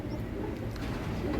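Pigeons cooing in a home loft give low, soft murmuring coos, faint and continuous over a short stretch.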